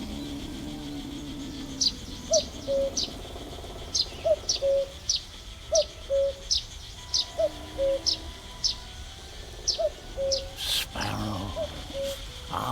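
A cuckoo calls repeatedly in a steady two-note rhythm, its soft, clear notes sounding at a distance over quiet background, with a brief louder noise near the end.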